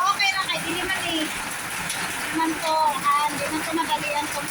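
Rain falling steadily, with a dense patter and splatter of drops on surfaces close by, continuous and moderately loud, with faint voices underneath.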